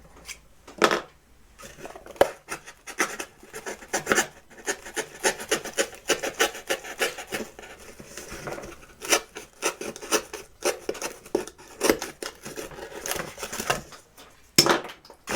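Knife or blade sawing through a cardboard box with rough, rasping strokes in irregular bursts, close and fairly quiet, no talking.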